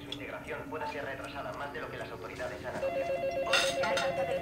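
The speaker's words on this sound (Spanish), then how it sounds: "Ahora suena el teléfono de la casa." A house telephone rings with a repeated electronic trill, rising out of background noise and speech toward the end.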